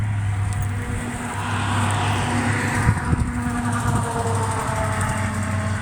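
A vehicle pulls a trailer into position to back it under a cabin at a prefab cabin site, its engine a steady low idling drone throughout, with a few brief knocks partway through.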